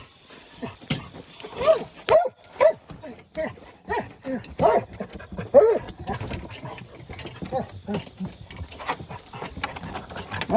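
Bear hunting dogs bark repeatedly out in wet woods, loud sharp barks in irregular bursts with someone talking over and between them.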